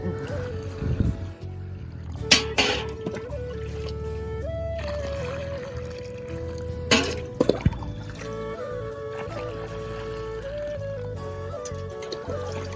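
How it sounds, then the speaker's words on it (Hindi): A bucket of water pours and splashes steadily into a hole in the ground, with a few louder sloshes and drips, fairly close and continuous. "दूसरा बाल्टी पानी जा रहा है अंदर"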